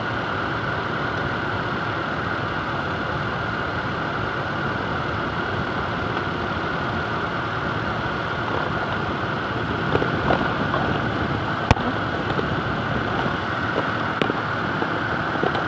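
A Toyota Innova engine idling roughly and close to stalling, a steady low rumble heard close up with small uneven knocks and ticks appearing toward the end, no voices.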